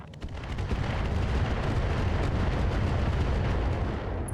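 A dense, continuous barrage of mech weapons fire in the BattleTech video game, booming explosions and rapid rumbling impacts blending into a loud sustained roar.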